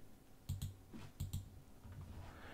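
Computer mouse clicks while modeling in Fusion 360, two pairs of quick close clicks about half a second apart, followed by faint softer taps, quiet surroundings.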